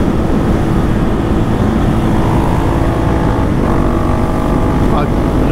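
Husqvarna 701 motorcycle exhaust while riding, a loud continuous engine drone under heavy wind rush, steady throughout with a slight change in pitch near the end.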